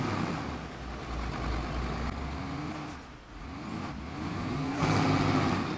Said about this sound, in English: like the way the turbo sounds.